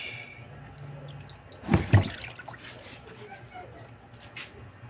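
Water is drained from a catfish (hito) pond, with a low watery background broken by two short, louder splashing gurgles close together near the middle.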